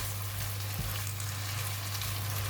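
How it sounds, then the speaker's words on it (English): Mushrooms sizzle and fry steadily in a pan as they are stirred for a stir-fry with tofu and Korean chilli paste; the frying hiss is continuous and close, with no talk over it. "Mushroom will take longer time to cook, right? So we put it in first. Give it a stir."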